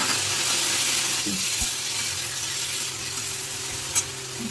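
Potatoes and mixed vegetables fry in a pan with ginger paste added, giving a constant close sizzle with occasional stirring scrapes and a soft clink near the end.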